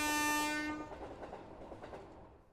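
A loud train horn sounds a sustained chord at the start, then fades into rhythmic clattering of rail wagons rolling along the track, with no talk.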